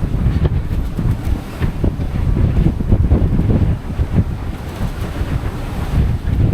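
Strong 25-knot wind buffets a sailing boat at sea between St. Lucia and Martinique, roaring in loud gusts over the rush of bigger waves.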